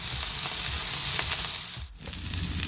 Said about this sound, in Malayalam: അതിലേക്ക് നമുക്ക് പച്ചമുളക് അരിഞ്ഞു വെച്ചതും ഇഞ്ചി വെളുത്തുള്ളി പേസ്റ്റും ചേർത്ത് കൊടുത്തിട്ട് ഒന്നും കൂടെ ഇളക്കി കൊടുക്കാം